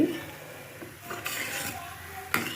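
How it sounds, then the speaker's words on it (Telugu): A spoon stirring boiling milk in a metal pot while making palakova, with soft scraping swishes and a couple of sharp clinks against the pot over a quiet bubbling background. "పాలు మనం ఇలా బాగా మరగ పెట్టుకుంటా ఇలా కలుపుతూ ఉండాలి"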